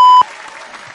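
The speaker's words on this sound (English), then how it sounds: "Round of applause." A canned applause effect from a podcast soundboard: a brief electronic tone, then a short, even burst of crowd clapping at moderate volume.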